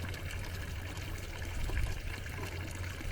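Natural spring water trickles and pours steadily through a funnel at close range, a soft continuous splashing with no voices.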